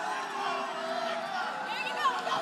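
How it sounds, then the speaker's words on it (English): Crowd at the Evan Cutts vs Jeff Craig fight, a steady roar of murmuring and shouting voices with a few louder whoops rising near the end. "Crowd letting them hear about it."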